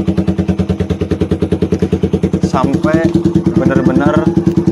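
Suzuki Satria FU carburetor motorcycle idling while warming up, a close, loud, rapid single-cylinder putter with steady even pulses that continue under someone talking partway through.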